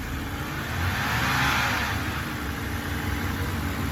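A BMW E90 car engine, after a spark plug and coil change, revs up, swells to a peak, then eases back toward a steady idle, loud and close.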